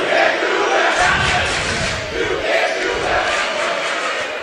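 A packed basketball playoff semifinal crowd roars and cheers loudly and continuously, a dense wall of voices filling the arena.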